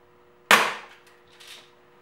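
A single sharp crack from a Daisy Powerline 901 air rifle firing a BB, loud and close, with a quick decaying tail and a fainter click shortly after.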